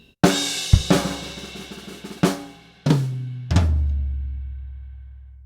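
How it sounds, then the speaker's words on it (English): Five loud flams ring out on a drum kit, alternating between a high tom and a floor tom. They are spaced unevenly, close and solo, and the last floor-tom hits leave a long, booming decay. "I'll play a right on high tom, left flam on floor tom."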